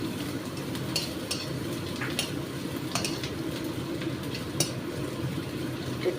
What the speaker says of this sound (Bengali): একটু ভাজা হচ্ছে